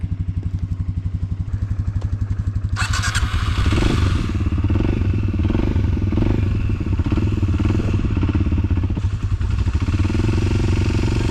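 Motorbike and four-wheeler engines roar while riding on a mountain, a steady loud drone near the listener that rises sharply a few seconds in, with rattling clatter and thuds over the rough ground.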